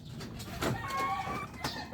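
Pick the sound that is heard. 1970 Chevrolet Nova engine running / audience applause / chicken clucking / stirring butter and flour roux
chicken clucking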